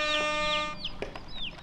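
Chicken calls ring out close by, a sustained harmonic squawk followed by a few short chirps and clucks, with light shuffling underneath.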